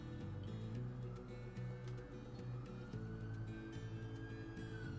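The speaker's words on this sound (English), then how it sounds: "Got a siren going past." A siren passing by in the distance: a faint, slowly rising and falling wail buried under a loud, steady low hum, continuing through the whole stretch.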